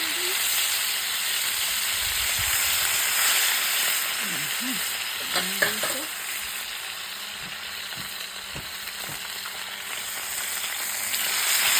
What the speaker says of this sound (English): we're going to be putting some new fish in the pot